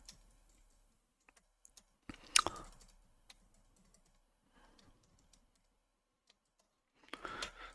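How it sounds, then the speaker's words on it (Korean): Scattered clicks and taps on quiet room tone, a few isolated sharp clicks then short bursts of rapid clicking, close and faint. "마우스를 클릭할 때마다"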